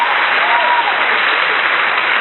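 An audience at a live podcast taping cheers and applauds, a dense, loud burst of clapping and crowd noise lasting a couple of seconds.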